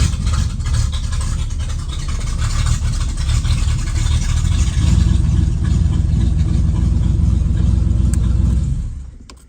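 A 1989 Chevrolet Camaro engine runs steadily after starting, a loud close idle with deep low rumble that holds for about nine seconds before cutting off at the end.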